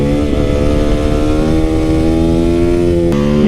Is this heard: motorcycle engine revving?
yes